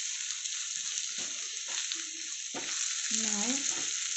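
Sambar powder stirred into a mung bean and cucumber curry frying in a pan, with a steady sizzle and occasional scraping stir sounds, close and alone.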